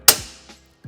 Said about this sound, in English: You take the entire assembly, you push it forward again, it clicks a little bit, and then you would pull it to the rear